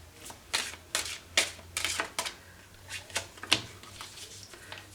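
A new tarot deck being shuffled close up: a run of crisp riffling bursts and papery flutters, repeated in an uneven rhythm with brief pauses between, no talking.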